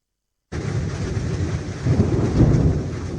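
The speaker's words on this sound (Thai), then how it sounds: "ช่วงเนี้ยฝนทั้งตกหนักลมก็แรง" Heavy rain pours steadily with rumbling thunder swelling midway, a broadband storm roar that starts abruptly and stays loud throughout, with no voices.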